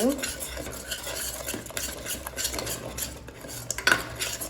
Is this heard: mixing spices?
yes